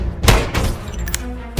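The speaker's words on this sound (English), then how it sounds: "That was definitely gunfire." Gunfire rings out in a few sharp, booming shots with rumbling echoes between them, loud and fairly close, with no voices over it.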